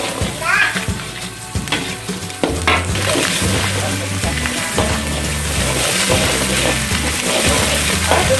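Two eggs being scrambled in a frying pan for Indonesian village-style fried rice, with steady sizzling and frying crackle throughout, broken by intermittent scraping and stirring sounds close up.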